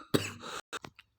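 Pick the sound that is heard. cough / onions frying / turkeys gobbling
cough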